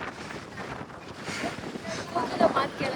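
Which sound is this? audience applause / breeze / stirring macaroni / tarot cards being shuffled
breeze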